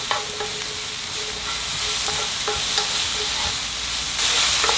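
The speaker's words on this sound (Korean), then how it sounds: "여기에 씻어서 가닥가닥 뜯어놓은 망가닥 버섯 넣고 볶아주세요." Beech mushrooms and garlic stir-frying over high heat in a pan, a loud continuous sizzle broken by repeated scraping clicks of a spatula against the pan, with a burst of hissing near the end.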